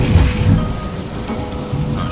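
A rumbling thunderstorm with lightning in the video game Outer Wilds: heavy rain and a loud, low rolling boom fill the short stretch without any talk.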